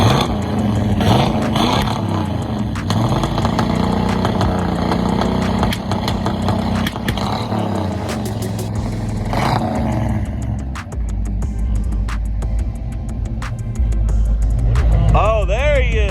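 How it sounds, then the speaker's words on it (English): A loud, throaty pickup truck engine, stock apart from a Flowmaster exhaust, rumbles and revs repeatedly, with deep exhaust growl rising and falling close by. "I just throw some exhaust on it,"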